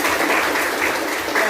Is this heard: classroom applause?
yes